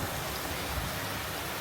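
Heavy rain falls in a steady, dense hiss that fills the scene evenly, with no pauses and no voices.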